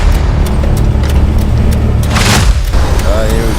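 A Nissan GQ Patrol 4x4 rumbles steadily in low gear, a loud, dense engine drone that holds throughout with a brief higher whine near the end, people talking faintly beneath it.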